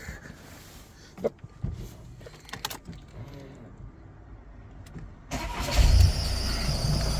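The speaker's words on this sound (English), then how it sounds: "If your van is squealing like this, it's usually the idler wheel" A Volkswagen T5/T6 van engine runs with a squealing drive belt from a worn idler pulley, heard up close with clicks and knocks, then growing louder and rougher toward the end.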